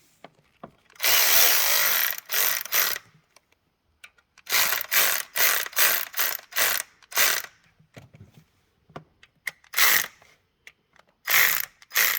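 A hand ratchet loosens a bolt on a 2014 Jeep Cherokee 3.6L engine during camshaft and rocker arm work: close, loud bursts of rapid ratcheting clicks in repeated strokes separated by short pauses, with no speech.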